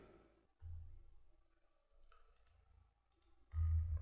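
A computer mouse clicks in the quiet while TallyPrime accounting software is in use. A few soft, isolated clicks are spaced apart against near silence, faint and without speech.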